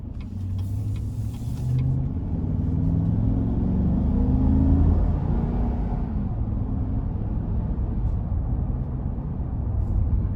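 A 2020 GMC Yukon XL SLE with the 5.3-liter V8 and 4WD accelerating hard on a test drive, its engine note a steady, loud rumble from inside the cabin that rises and swells over several seconds before easing off.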